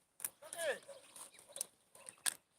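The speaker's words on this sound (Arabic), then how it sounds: "دي فراخ" Chickens clucking close by in short, irregular bursts, with sharp higher squawks mixed in.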